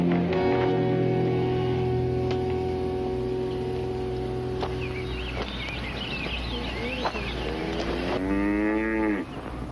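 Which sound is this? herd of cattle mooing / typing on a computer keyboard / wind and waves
herd of cattle mooing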